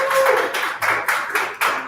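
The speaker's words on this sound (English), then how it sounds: "can we get another round of applause for the Cavs this year?" A few scattered claps in a live venue, several distinct bursts in quick succession rather than a full crowd ovation.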